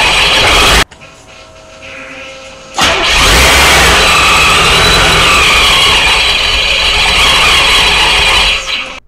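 A supercharged Corvette engine cranks and fires up for the first time. A loud burst is followed by a quieter pause, then the engine catches and runs at a steady, loud, droning idle close by.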